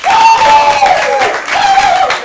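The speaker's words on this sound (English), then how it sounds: "So, a round of applause." A comedy game show audience claps and cheers, with whistles rising and falling over the noise, steady and lively for a couple of seconds.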